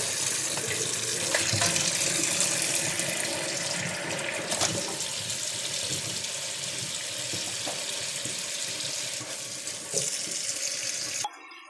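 Water runs steadily from a tap into a sink, a constant rushing splash with occasional small knocks, ending abruptly as the flow stops.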